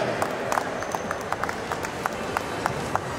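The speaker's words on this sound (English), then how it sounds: "can we have a big round of applause for that" Audience at a Thane inauguration event applauding, sparse, scattered claps from a modest crowd, distinct individual hand strikes popping out irregularly over a low background murmur.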